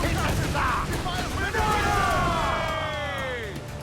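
Incoming cannon fire in a naval battle in the video game Assassin's Creed IV Black Flag, with shots whistling in on a falling pitch over a rumbling battle din while crew voices shout.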